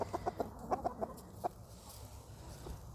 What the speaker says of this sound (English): This is a Cinnamon Queen, I do believe, right here. Or she could be a gold-laced Wyandotte,